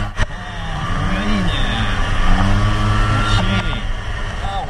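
A 1980s two-stroke motorcycle engine hums and revs steadily while being ridden, its pitch rising and falling with the throttle, with wind noise and voices over it.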